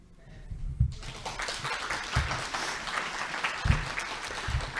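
Graduation audience at a spring social work hooding ceremony bursting into sustained applause that swells in after a quiet moment, a dense crowd of clapping with occasional louder thumps.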